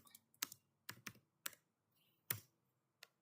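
Computer keyboard keys being struck to enter a git command, several separate clicks and a couple of quick clustered presses, close and fairly quiet, ending with a single lighter tap, no talking.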